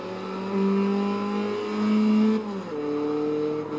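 A car engine in Forza Motorsport 3 revving steadily with a smooth whine, dipping briefly as the gear shifts, close and fairly loud with no voices.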